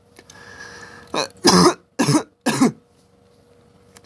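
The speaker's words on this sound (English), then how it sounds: "Stop coughing" A boy coughs four times in quick succession, close and fairly loud, each short harsh burst separated by brief pauses, with quiet room tone between.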